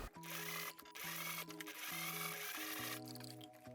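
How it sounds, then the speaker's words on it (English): A sewing machine bar tacks into the seam allowance of a tiered dress bodice, stitching in quick close bursts with short pauses between runs. "you can go ahead and bar tack into the seam allowance"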